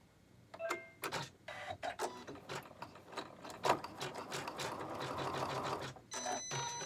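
A Janome 15000 sewing machine stitches slowly at roughly 400 to 600 stitches per minute, giving a close, clattering run of needle and mechanism clicks that swells steadily louder toward the end.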